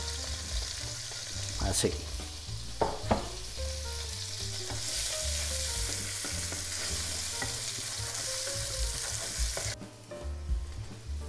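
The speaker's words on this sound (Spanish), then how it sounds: "Y ahora vamos a sofreír la cebolla." Chopped onion frying in a pan with oil as the base for a pork rib stew: steady, loud sizzling throughout, with occasional scrapes and knocks of stirring and a brief word spoken near the end.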